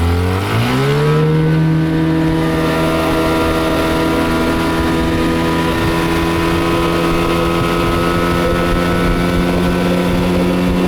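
Motorboat outboard engine revving up on a summer pike-fishing trip, a steady loud drone that rises in pitch at the start and holds a sustained throttle with water wash, no talk.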